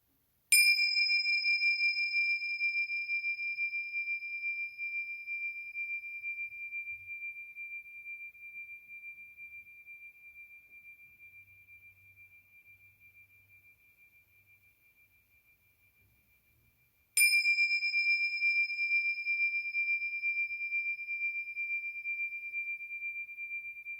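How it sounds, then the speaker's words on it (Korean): A meditation bell gives two clear, ringing strikes about sixteen seconds apart. Each tone sustains and slowly fades in near silence. "다시 한번 종소리에 집중하는 시간을 갖도록 하겠습니다"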